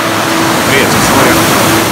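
Rough sea with waves breaking gives a loud, steady broadband roar that fills the whole clip, with no clear pauses.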